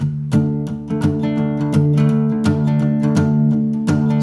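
Acoustic guitar chords from a song strummed in a steady rhythm, close and full-sounding, with no voice.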